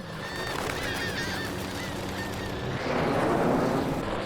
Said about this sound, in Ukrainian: скільки птахів, Клаусе.